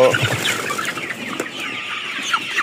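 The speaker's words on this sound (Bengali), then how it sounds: "তো সেগুলাই এখন আমি এই CPF3 মুরগিগুলাকে, মানে টাইগার মুরগিগুলাকে খাওয়াবো।" Tiger-breed (CPF3) chickens clucking and calling at close range while fed fermented maize, a busy overlapping flock chorus with a few sharper squawks, steady throughout and with no voices.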